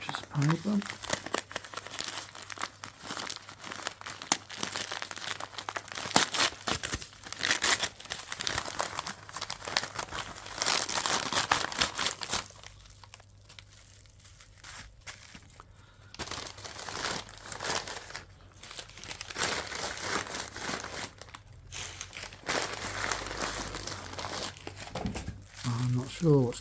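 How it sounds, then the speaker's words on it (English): Butcher's paper crumples and crinkles loudly while a parcel is unboxed, in long bursts of rustling with a quieter stretch midway and a person talking throughout. "Just empty butcher's paper."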